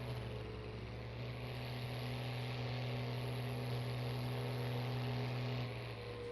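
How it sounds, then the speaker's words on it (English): A Case IH 4755 farm tractor engine runs at a steady, even drone, moderately loud and unbroken, on a farm in Bucks County, Pennsylvania. "The way this engine sounds is just sweet, to me at least."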